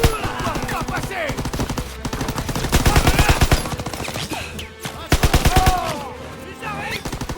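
Dense bursts of rifle and machine-gun fire crackle in a World War II battle from Call of Duty WWII, rapid volleys rising and falling, with shouted voices mixed in.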